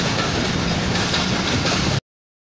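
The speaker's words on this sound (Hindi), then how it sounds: "ये रेलगाड़ी जा रही है" A train passes close by in Karachi near the international airport, a loud steady rumble with rail clatter filling two seconds before cutting off abruptly.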